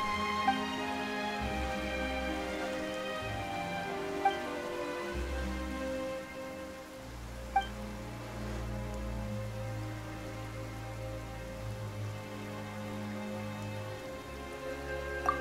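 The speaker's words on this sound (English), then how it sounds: "Why is it raining all of a sudden?" Rain patters steadily over a droning musical backdrop in the video game Genshin Impact, with a few faint drops and soft clicks standing out.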